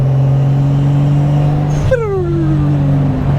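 A Toyota Supra MK3 turbo engine idles with a steady low drone, then the throttle is released and a whining tone sweeps down in pitch over about a second and a half, heard from inside the car.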